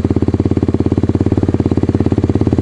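A Kayo 110 pit bike engine revs hard and close, a loud, rapid, evenly pulsing single-cylinder bark held steady throughout with no speech over it.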